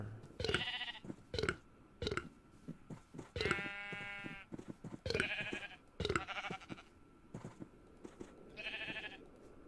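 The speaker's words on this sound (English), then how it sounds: "Let's go do something that we should have been doing all along, and that is feeding the sheep." Video-game sheep bleat repeatedly at a farm, giving several distinct wavering baas in an irregular series, some overlapping and some spaced apart, clear and close with no talking.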